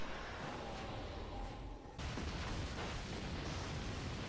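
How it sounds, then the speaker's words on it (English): Anime explosions from a psychic battle in Mob Psycho 100 Season 2: dense, continuous rumbling blasts and crackling bursts, steady and fairly loud, with a brief dip before a fresh surge. "There's just a bunch of light explosions and psychic powers being used."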